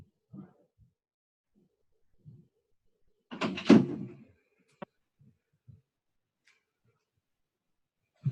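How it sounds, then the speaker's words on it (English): A door is pulled shut in a quiet room, giving one loud knocking thud with a brief rattle, followed by a few faint small clicks and bumps against near silence. "I'm going to close the door."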